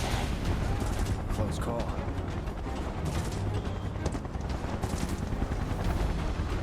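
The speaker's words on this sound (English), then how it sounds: "Open fire! Shoot to kill!" Soldiers in the video game Final Fantasy VII Remake let loose sustained, dense gunfire with clattering mechanical bursts, loud and continuous, while voices shout over the shooting.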